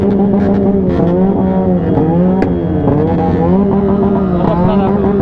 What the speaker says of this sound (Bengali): দেখো এখানে বার্ন আউট করছে